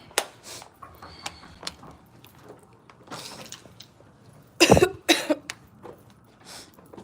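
One person coughs twice, harsh and close, after scattered faint clicks and rustling in an otherwise quiet room.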